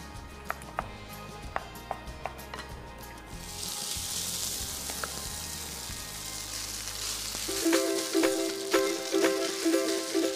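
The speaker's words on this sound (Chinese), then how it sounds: "咁我哋撈翻埋佢就可以煎噶啦。 好，你幫我落少少油落去啦。" A few light taps and clicks give way to a rising, steady sizzle as lily bulb, lotus root and potato cakes with salami pan-fry in a little oil, with occasional scraping near the end.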